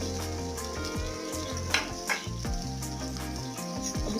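Onions and whole garam masala sizzle steadily in hot oil in a home kitchen pot, a continuous close frying hiss with a few brief stirring clatters along the way.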